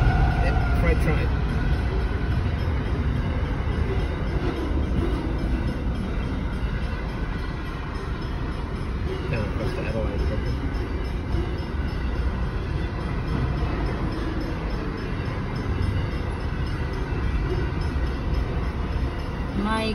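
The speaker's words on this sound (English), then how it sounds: "Yep, it's a diesel. This will be a long one. Long one. Yep, freight train." A heavy diesel freight train rumbles past close by at a railway crossing in Australia, a continuous loud low roar of wagons rolling on, with people talking over it.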